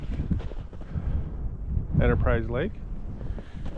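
Steady low wind rumbles against the microphone outdoors on a lake in Wisconsin while someone talks, and a bird-like chirping rises briefly in the middle.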